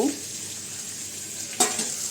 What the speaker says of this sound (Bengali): আর এখানে যে বেগুনি ভাজা করব